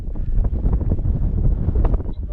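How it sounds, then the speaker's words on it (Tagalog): Strong wind near a waterfall in Africa, blasting across the microphone as a loud, low, roaring buffet that stays heavy and unbroken throughout. "Taas ng hangin."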